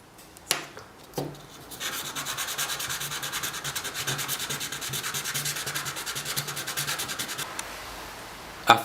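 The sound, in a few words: sanding a piston for a Stirling engine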